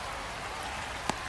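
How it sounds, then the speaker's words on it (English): Rain falls on the ballpark in MLB The Show 25, a steady soft hiss of downpour throughout with a single faint tap near the end. "This rain is not letting up"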